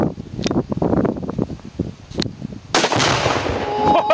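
A tannerite target detonates after being shot outdoors, a single sharp loud blast that cuts in abruptly and leaves a broad rumbling wash afterward, with people talking and rustling around it beforehand.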